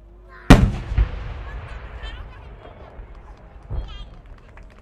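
Omagari fireworks competition shells, size 10 core-filled split shells, bursting: one loud sharp boom followed by a second close blast and crackling decay, then a later, softer burst, with a crowd murmuring throughout.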